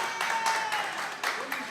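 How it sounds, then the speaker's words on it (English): Audience clapping at a comedy show, a brief steady burst of applause with scattered louder claps, mixed with a voice speaking over it. "Round of applause."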